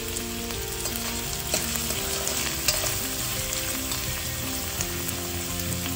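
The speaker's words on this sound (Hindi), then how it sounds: "2 से 3 मिनट तक इसको भी सौते कर लेंगे।" Vegetables sauté in a hot pan for homestyle fried rice, cooked briefly to stay crunchy, producing a steady loud sizzle with occasional scraping stirs throughout.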